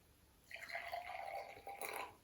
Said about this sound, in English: I'll put a little bit of water in each of them.